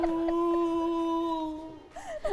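A man mimics a dog's howl during a comedy show, a sustained, slightly wavering tonal wail for about two seconds that fades into a brief whimpering tail.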